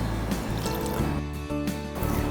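Water pours into a bowl of eggless marble cake batter made with flour, baking powder and soda bicarbonate, a steady close gurgling fill with shifting splashy tones over about two seconds.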